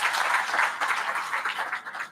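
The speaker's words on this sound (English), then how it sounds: "A round of applause for Dr." Conference audience applauding a speaker at a plenary session, a dense steady wash of clapping hands that holds for a couple of seconds before thinning slightly, moderately distant and without talk.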